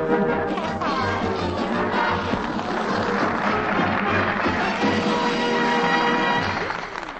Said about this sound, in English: The sound of milking a cow. I mean those two seams of milk when they hit the bottom of that old tin pail.